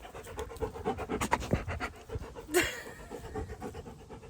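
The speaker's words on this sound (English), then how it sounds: "Our dog, sorry about the dog." A dog pants rapidly and faintly right beside the camera on a rural property with a few acres, with soft scratchy movement and a brief louder rustle midway, while a person says a word.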